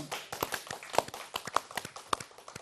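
A congregation claps hands in thanks, producing uneven bursts of claps and taps, moderately close, with faint voices in between.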